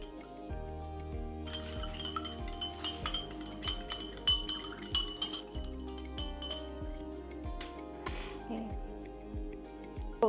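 Glass container with floor cleaner ingredients, including EDTA disodium chelating agent, being stirred: repeated rhythmic glass clinks and taps, fairly close and steady, growing busier midway, with no talk over them.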